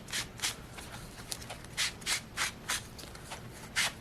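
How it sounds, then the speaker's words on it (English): An old sponge dabs and rubs Walnut Stain Distress ink onto the edges of a paper music-sheet gift tag, giving about a dozen short, close scuffing strokes in an uneven rhythm. "I've just got an old sponge that I'm going to go around the outside edge of this with."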